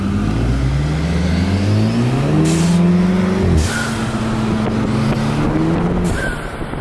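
A Ferrari 458 engine drives by at night, its loud revving note climbing in pitch and holding steady, then shifting as the car passes close, with a brief quieter fade at the end.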